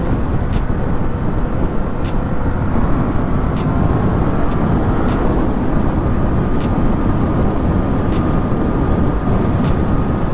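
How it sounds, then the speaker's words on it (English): A Yamaha MT-07 (FZ-07) motorcycle accelerating hard in second gear, a loud, continuous engine roar with steady wind rush for the whole stretch, recorded close from the rider's position with no talk. "I'm gonna just speed up over here and show you guys how powerful this bike is."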